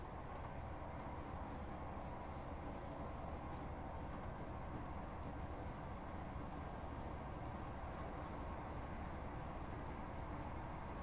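A ScotRail Class 158 diesel train in Train Sim World 4 runs at speed, a steady, low, continuous rumble of engine and wheels on track with no breaks, fairly faint throughout.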